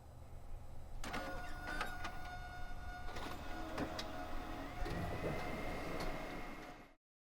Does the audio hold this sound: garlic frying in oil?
no